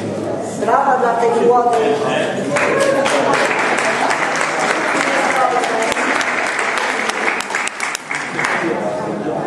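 An audience claps warmly for a young girl who performed, during a statuette and gift presentation at a Polish stage event. The loud, full applause runs throughout while voices talk over it.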